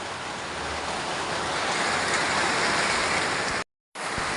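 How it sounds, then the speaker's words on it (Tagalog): Heavy November rain pours down in a flooding backyard in the Philippines, a dense, steady wash of water noise heard alone that cuts out for a moment near the end. "Because of the heavy downfall of rain this November 1st, 2024, Friday."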